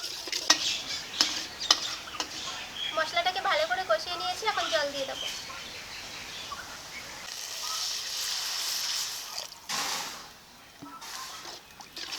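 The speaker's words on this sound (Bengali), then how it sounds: "এখন মশলাটাকে ভালো করে কষিয়ে নেব" A spice masala of chili paste, turmeric, salt, chopped tomato and a little water is stirred and fried in a pan for prawn malai curry, with scraping stirs, light sizzling, a brief squeaky tonal sound and a faint voice in the background.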